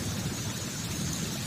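Steady rain pours down during a thunderstorm with hail, forming a dense, continuous hiss with no distinct thunderclaps and no voices.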